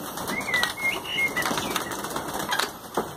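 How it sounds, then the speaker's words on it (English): Tippler pigeons taking off from a homemade loft, with a burst of flapping wings that flutters on and off over a steady outdoor background, close and moderately loud. "Birds are starting to fly for me."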